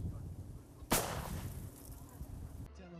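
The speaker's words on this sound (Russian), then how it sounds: "Залпы орудий, треск пулеметов и взрывы." A single sharp, loud gunshot or artillery report at a WWII battle reenactment of the fight for Sevastopol, cracking out over a steady outdoor background rumble.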